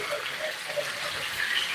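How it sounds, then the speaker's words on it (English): Water is poured into a cooking pan to loosen the browned bits for gravy, giving a soft, steady splashing and gushing sound that carries on for the whole moment. "Gonna add some water to it, and then that's gonna help make the gravy."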